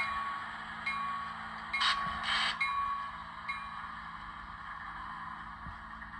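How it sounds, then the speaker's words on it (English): Model locomotive on a layout running its shutdown sequence, a low steady engine hum winding down with a few brief hissing and clanking bursts, faint and close. "I like the way this locomotive does its shutdown sequence."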